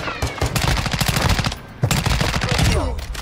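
Call of Duty Warzone 2 gunfire rattles in rapid, loud, close automatic bursts, broken by a short pause before the shooting resumes.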